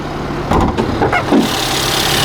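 Mercedes-Benz GLC 43 AMG from 2017 with a 3-liter bi-turbo V6, idling up close with a steady low engine hum, a few short bursts of sound rising over it.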